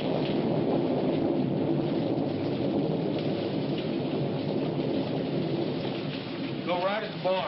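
Steady, loud rain pours down with deep rolling thunder rumbling throughout, a continuous storm wash with no break, and a brief faint voice near the end.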